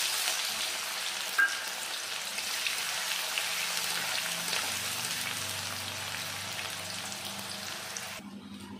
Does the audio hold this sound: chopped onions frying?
yes